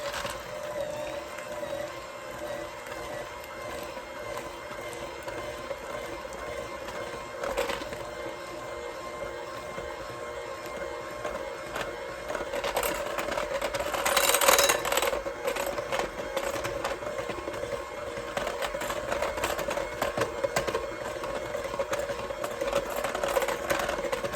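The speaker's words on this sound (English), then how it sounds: "And now I'm gonna take my little mixer. I'm gonna mix it up just on low, go on very low speed." An electric hand mixer runs on low speed through a thick key lime pie filling, giving a continuous steady whir with faint rattling, somewhat louder toward the end, with no talking.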